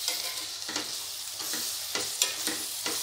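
Green chillies are stirred into a sizzling, semi-dry thattaikkaai sukka varuval, the spoon scraping the pan in repeated strokes roughly every half second over a steady frying hiss.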